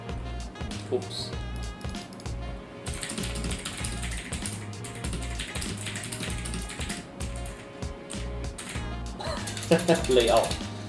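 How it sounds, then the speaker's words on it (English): Fast typing on an AULA F2058/F2088 mechanical keyboard gives a rapid, continuous clatter of keystrokes heard close, with a louder burst near the end. "I guess you can hear when I'm typing."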